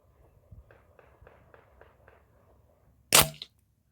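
A Webley Nemesis X PCP air pistol fires a single sharp, loud crack at an outdoor range, preceded by a few soft rhythmic clicks and quiet background noise.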